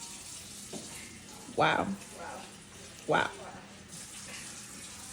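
Tap water running in a kitchen sink while a bowl is washed, a steady hiss with two louder splashing gushes, under a brief spoken exclamation and nearby voices.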